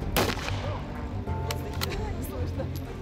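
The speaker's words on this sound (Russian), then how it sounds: "Выстрел! Выстрел!" Pyrotechnic blank gunshot effects at a World War II reenactment staged outdoors, a sharp loud report near the start followed by a few further shots over continuous crowd noise and talk.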